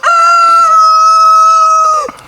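A rooster crows once, loud and close, holding a long clear call before it breaks off.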